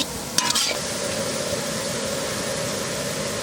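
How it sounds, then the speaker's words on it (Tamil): Grated carrot with salt and asafoetida sautés in a pan for a wedding-style vegetarian feast, a steady close sizzle with a brief scraping stir near the start. "கேரட் நல்லா வதங்கிருச்சு."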